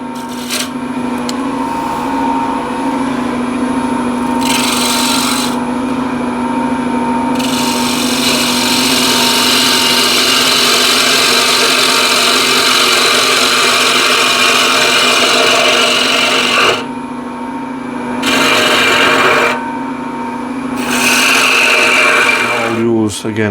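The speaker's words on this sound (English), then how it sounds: "use again asymmetric curve scraper and just again lightly go" An asymmetric curve scraper works a wooden ladle spinning on a lathe, producing a continuous close rasping hiss over the steady motor hum, with brief pauses where the tool lifts off.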